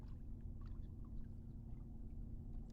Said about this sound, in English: You can hear some boats humming.